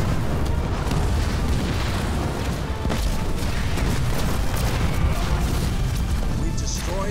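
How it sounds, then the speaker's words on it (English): An enemy structure explodes in the Halo Wars 2 video game, a heavy, continuous booming rumble with crashing bursts, loud and sustained under game audio and voices. "We've reduced an enemy structure to rubble."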